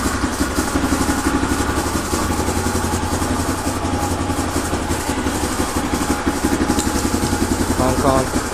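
A 1981 Honda XL500S single-cylinder motorcycle engine idles close by, a loud, steady, lumpy thumping beat that persists throughout, with a person speaking over it.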